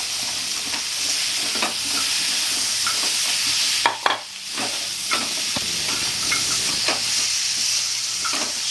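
Drumsticks (moringa pods) hit hot oil in a pan and are stir-fried for a Bengali prawn curry, giving a steady loud sizzle with scraping spatula strokes and a few clattering knocks.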